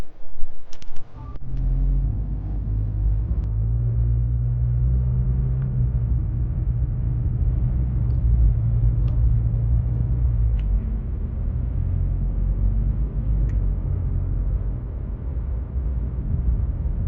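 Steady low engine and road rumble inside a moving car, continuous and fairly loud throughout, with a brief louder bump near the start and no talking.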